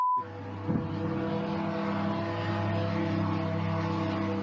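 An unidentified drone flies over Moscow, a steady droning engine hum with sustained tonal whine that holds at a constant loudness throughout, fairly near, with no speech.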